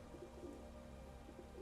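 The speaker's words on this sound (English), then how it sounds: "Look at that pigeon." Soft pigeon coos drift through an ambient video game scene in Skyrim, low and faint over a steady background hum, repeating in a few gentle bursts.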